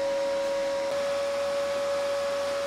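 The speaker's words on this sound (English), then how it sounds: "If I pull the trigger, you can see all the aluminium wire is making a nice curl around the bottom." An R-Tech MIG180 welder's spool gun feeding aluminium wire with the trigger held, giving a steady high whine from the feed motor that runs unbroken throughout, moderately quiet and close.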